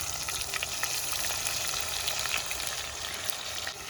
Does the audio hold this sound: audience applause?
no